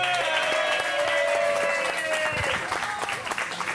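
A crowd applauds a performance by a Catalan rumba group, with close, continuous clapping under a sustained singing or chanting voice and music-like tones, fairly loud throughout.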